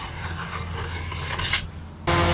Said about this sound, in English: I'll just use a scraper to remove some of the excess glue